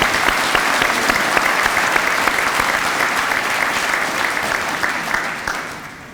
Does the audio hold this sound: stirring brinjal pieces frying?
no